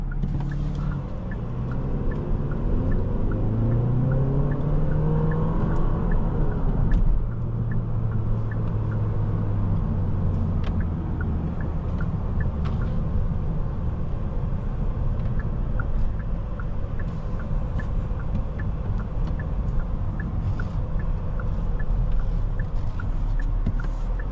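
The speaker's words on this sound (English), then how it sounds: "acceleration's very, very seamless in this car. It picks up speed quick." A 2025 Hyundai Sonata N Line accelerating from inside the cabin, its engine note climbing through rising gears with a shift partway, over constant road rumble and no talk.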